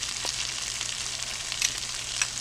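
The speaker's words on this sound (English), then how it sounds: "I'm going to stir this around until all the onions are nice and coated." Flour-coated onions sizzle and fry steadily in a skillet, a loud, continuous hiss with faint scraping as they are stirred, no voices.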